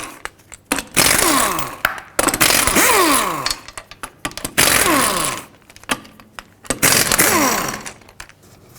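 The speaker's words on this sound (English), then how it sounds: "take off all 5 of your 19mm lug nuts" Impact wrench spinning 19mm lug nuts off a Saturn Aura front wheel, five loud rattling bursts, each about a second long, separated by short pauses.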